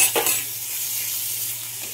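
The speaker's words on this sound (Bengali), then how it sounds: "টমেটোটা ভাজা হয়" Tomato goes into a hot pan and is stirred while frying, opening with a brief burst of sizzle and a scrape before settling into a soft, steady hiss, close and without voices.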